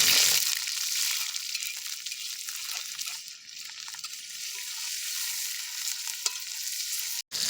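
Green chillies and onion sizzling in hot oil in a pan, a bright continuous crackle and hiss with occasional stirring scrapes, ending in a sharp clatter.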